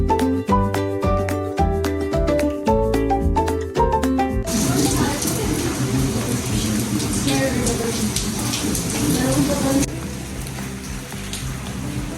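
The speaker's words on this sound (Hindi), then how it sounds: "इतनी प्यारी बारिश हो रही है।" Monsoon rain falls as a steady, dense hiss that follows a few seconds of music and continues evenly to the end, fairly loud and close.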